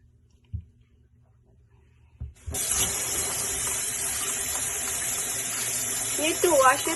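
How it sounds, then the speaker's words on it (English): Water from a kitchen tap runs steadily onto lemon and ginger being washed in a sink, starting after a few faint knocks and continuing as a constant close hiss with brief splashes near the end. "First, we need to wash the lemon"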